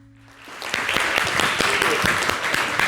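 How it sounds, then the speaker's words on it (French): An audience bursts into applause for a performer during a demonstration of little-known sports. The clapping rises quickly out of a quiet start into dense, lively claps with a few sharper individual hits. "La Tibane, merci de l'applaudir."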